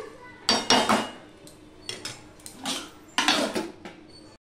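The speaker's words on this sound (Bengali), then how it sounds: "এবার সম্পূর্ণটা আমি মিশিয়ে নিচ্ছি, মিশিয়ে নিয়ে আমি আবারও ঢাকা দিয়ে দিচ্ছি" Cabbage curry stirred in a metal pot with a spoon, giving a few sharp scraping clanks in separate bursts, followed by the lid being set back on with a clatter.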